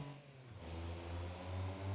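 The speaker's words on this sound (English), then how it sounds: "I love the sound of the synchronized shifting up there" In BeamNG.drive, a Pigeon and a Wigeon road car engine-buzz in unison, the tone dropping at a synchronized upshift and then climbing again as both accelerate, fairly quiet and steady.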